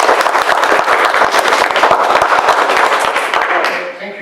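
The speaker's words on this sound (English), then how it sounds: "Thank you for your applause." Sustained applause from an audience at a Victor Harbor council meeting, dense clapping at steady loudness throughout before tapering slightly at the very end.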